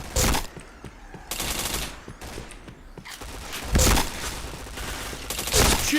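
Rapid gunfire bursts from a shooter game played with Nobunaga's Katana, several loud volleys of shots with thumps between them, interrupted by short pauses.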